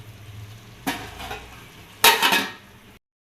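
A spoon stirs chicken curry mixture in a pan, producing two close scraping strokes against the metal, the second louder and longer, before the sound cuts off.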